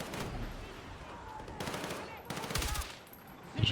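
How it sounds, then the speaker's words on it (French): Rapid automatic gunfire from the video game Battlefield 6 comes in two dense bursts of loud, close shots, with a thud at the end. "Je tire sur tout le monde."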